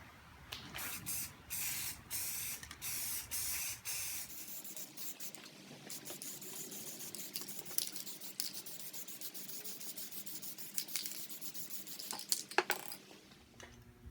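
Primer is sprayed onto a part from an Atlas 73 drill press under restoration, with repeated short hissing spray bursts at first, then a quieter stretch broken by scattered clicks and taps.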